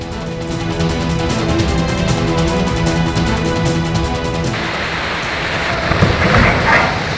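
Rain and a thunderstorm in Balochistan: a steady, loud hiss of heavy rainfall with low rumbles, first under a tonal backing and then alone.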